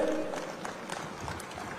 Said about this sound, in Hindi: आदिवासी भाइयों बहनों ताली बजाइए